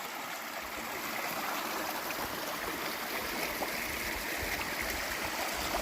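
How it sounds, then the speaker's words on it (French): Stream running straight through an old stone wash house, a steady close rushing and gurgling of water that stays constant with no voices. "un ancien lavoir avec le cours d'eau qui passe carrément dans le lavoir"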